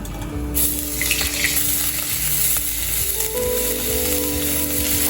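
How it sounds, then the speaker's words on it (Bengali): Grated ginger frying in hot oil after cumin, on low-to-medium heat, gives a loud, continuous crackling sizzle right up close, with a faint mechanical hum underneath. "আদাটাও ভালো করে ভেজে নেব"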